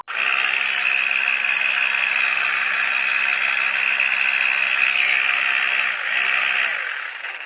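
ADNOOM 6000mAh battery portable air pump tire inflator running on a bike tire, a loud, steady mechanical buzz with rattling that wavers near the end as something pops inside; no talking.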